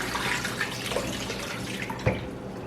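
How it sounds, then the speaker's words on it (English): Water trickles and drips steadily from washed apples taken from lemon water, with a soft splash and occasional droplets, close and fairly quiet, no speech. "I have cleaned my apples, and I'm going to drain them now"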